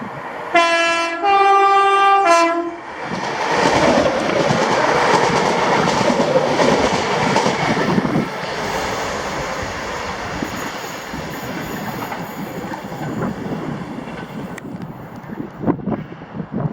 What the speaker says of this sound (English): this was 2E66, the 1553 ScotRail service to Airdrie from Balloch with 318225 and 318260 in the rear